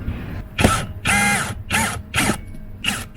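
A power driver whirs in several short bursts as four Torx screws are backed out of a BMW cabin filter cover, each burst ratcheting briefly with pauses between, close and fairly loud.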